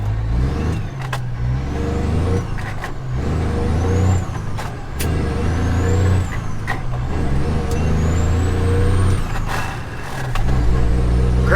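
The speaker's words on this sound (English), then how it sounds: "Truck's running great" A semi truck's engine running and revving, with deep steady low rumble, rising and falling throttle, and several sharp hissing bursts like air brakes releasing, loud and close throughout.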